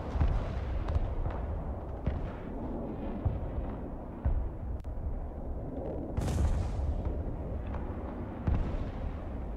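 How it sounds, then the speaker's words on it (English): Bombs explode in the Broken Arrow battle game amid dense rumbling artillery and gunfire, with a sharp bright blast partway through over a continuous low roar. "Ooh, that's a good bomb throw."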